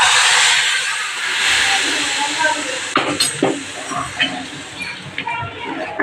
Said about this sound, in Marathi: बदाम, काजू, इलायची पावडर आपल्याला याची फोडणी द्यायची